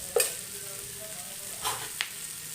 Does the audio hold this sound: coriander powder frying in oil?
yes